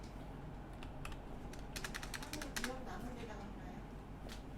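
Quick keystrokes clatter on a computer keyboard in irregular bursts, with several rapid repeated presses close by, faint and against a low background hum.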